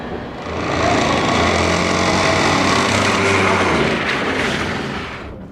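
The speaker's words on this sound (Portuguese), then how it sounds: "o motor tá rajando" Engine running rough with an odd grinding noise, a dense, steady roar with a low throbbing hum underneath that holds loud throughout and fades slightly at the end, with no voices.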